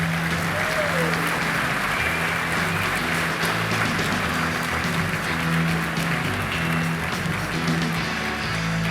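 An audience at a Special Olympics Minnesota event applauds steadily as an athlete speaker is welcomed to the stage, a dense sustained clapping crowd filling the room at close range.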